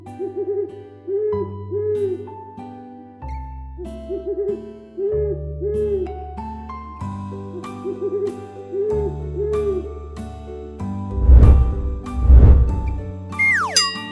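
Owl hoots from a bird identification game, sounding as a musical electronic effect with repeated warbling hoots over a layered tonal background, then two loud low thumps and a rising whistle at the end.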